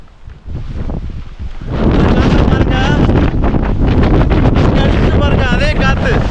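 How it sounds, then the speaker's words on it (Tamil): Strong wind gusts buffet the microphone on a hillside trek to a hilltop temple near Dindigul, a loud, continuous roar that rises sharply after a quieter start, with voices intermittently audible underneath. "பாருங்க, அதே காற்று"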